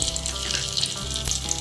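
Whole fennel seeds, cinnamon pieces, bay leaves and cloves sizzle and crackle steadily in hot oil in a pan, a close, continuous frying hiss with small pops throughout.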